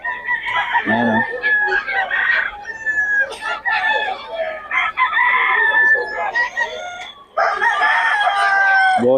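Boston Sweater gamefowl rooster at a market, crowing loudly and clucking repeatedly up close, with someone talking over the calls throughout.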